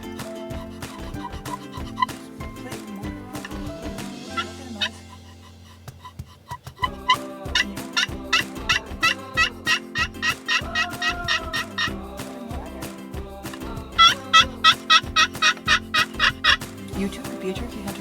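Turkey gobbling outdoors in repeated rapid bursts, some close and loud, with a brief quiet gap before a long run of gobbles; no talking.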